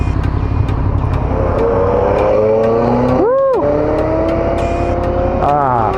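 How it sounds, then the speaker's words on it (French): A Ferrari sports car passing on a country road in the Chevreuse valley, its engine rising in a steady drone and then sweeping past with a Doppler pitch shift, heard over constant motorcycle engine and helmet wind noise. "Ah, une Ferrari."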